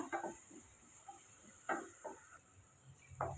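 Vegetables and chilli being stir-fried in a pan for vegetable fried rice, a low hiss under a handful of spaced spatula scrapes and tosses, quiet and close by.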